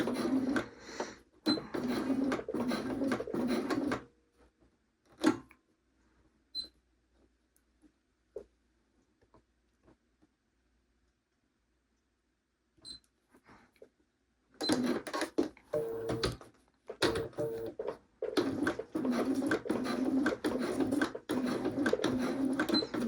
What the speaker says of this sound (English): So I just did 2 rows of stitching and a little bit of back stitching